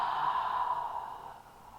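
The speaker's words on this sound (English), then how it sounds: "A nice deep inhale, make it audible. Exhale, side out." A slow, audible yoga breath, a deep inhale flowing into a long exhale, soft and close, alone without talk, fading gradually toward the end.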